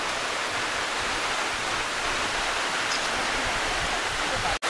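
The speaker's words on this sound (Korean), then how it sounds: "이 폭포는 꽤 길게 계셨네." A long waterfall in a mountain valley fed by the Sipidam gorge stream, a loud continuous roar of falling water filling the whole clip, close and steady with no voices.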